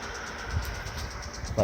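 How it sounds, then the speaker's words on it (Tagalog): A Pedrollo 0.5 hp jet pump motor running on a deep well for a farm watering system, heard as a steady, loud mechanical hum and rumble with a couple of faint knocks. "Jet pump."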